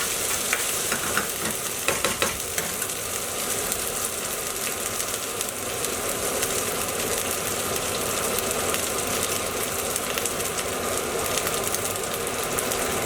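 Garlic and ginger fry in a pan for a chicken jalfrezi curry, giving a steady, close, busy sizzle that stays constant throughout with no talking.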